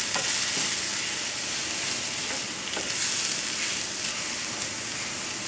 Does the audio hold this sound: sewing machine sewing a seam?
no